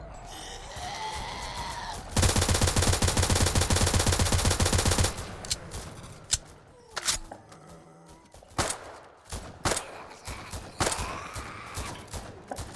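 A burst of rapid automatic G3 rifle fire in the Roblox game Zombie Uprising rattles loudly for about three seconds, followed by scattered single shots, clicks and game effects.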